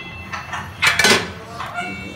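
Metal utensil clinks and scrapes against a cooking pan as green-spiced chicken curry is dished out, a few close, sharp clatters clustered in the middle amid soft kitchen background.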